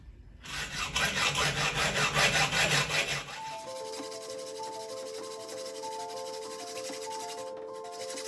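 A curtain rod tube clamped and sawn through, rapid rhythmic back-and-forth rasping strokes for about three seconds, close and loud, then stopping as quieter background music continues.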